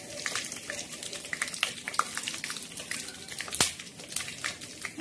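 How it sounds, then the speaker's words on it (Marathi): Peanuts are dry-roasting in a pan for a spicy Maharashtrian green chilli, coriander and onion dish, giving a steady crackling sizzle with scattered sharp pops throughout. "मस्त खमंग असे खरपूस शेंगदाणे भाजून घ्यायचे"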